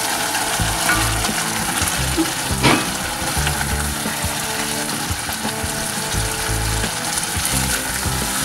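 Onions and paste frying in hot oil in a pan for nasi lemak, a loud close sizzle with rhythmic stirring clatter and scraping throughout, no voices.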